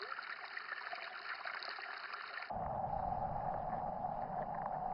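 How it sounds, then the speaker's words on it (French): The Wulie river flows through Chengde in a continuous rush of water. Midway the sound changes from a thinner, hissing trickle to a fuller, closer and louder flow. "La Wulie est la principale rivière qui traverse Chengde"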